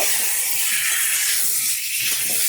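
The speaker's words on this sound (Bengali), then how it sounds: "টুকরো করে কাটা ফুলকপি দিয়ে দিলাম আর ভালো করে দেখো আমি ভাজা করে নেব" Cut cauliflower pieces hitting a hot pan, with a loud, dense hiss of sizzling oil held steady and close throughout the short moment.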